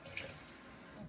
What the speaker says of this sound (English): I'm going to add just a little bit of water to get all the rest of this barbecue sauce out of here